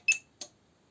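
An Energinie UPS-RACK-1500 UPS unit gives two quick, sharp electronic chirps close by as its power button is pressed, the first louder than the second, followed by silence.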